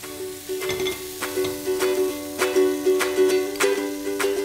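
Pepper-coated fish sizzling on a grill, a steady close crackle with bright repeated clinks and taps from utensils in a loose rhythm and no talk.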